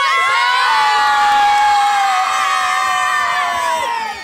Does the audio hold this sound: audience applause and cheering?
yes